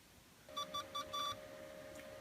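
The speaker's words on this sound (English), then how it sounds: "the beep is handy because we need to pay attention" A Supermicro SuperServer 5028D-TN4T gives short boot beeps, four quick close electronic tones in a row over a steady hum, then quiet fan noise.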